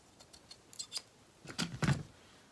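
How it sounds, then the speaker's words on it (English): Scissors snip close by through a paper tag in a few short, crisp cuts, with lighter snips early and two louder, firmer cuts near the end, heard alone without talk. "Can't cut straight today."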